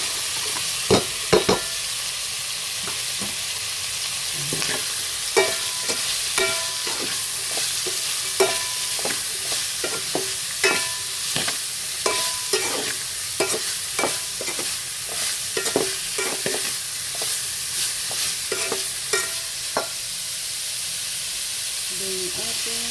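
Pork and carrot stir-fry in a hot pan for pancit bato, with a constant loud sizzle and irregular scraping, clattering utensil strokes throughout.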